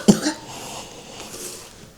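A single sharp cough from a young child, close by at a breakfast table indoors, followed by a fainter second catch and quiet room tone.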